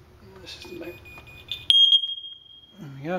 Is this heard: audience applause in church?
no